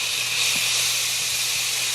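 Scallions and garlic frying in a pan for mac and cheese give a steady, loud broadband sizzle, a constant hiss with no talking.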